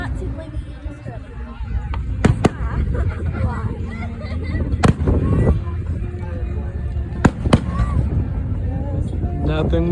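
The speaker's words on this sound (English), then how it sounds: "Nothing more American than blowing up fireworks and listening to music." Fireworks burst in sharp, scattered bangs at an outdoor show in Lincoln, Nebraska, several loud cracks over a steady crowd murmur, with people chatting nearby.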